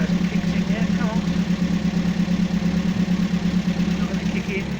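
An old car engine idles with a steady low, lumpy throb and a rhythmic mechanical tick, running evenly at close range, with a voice speaking over it.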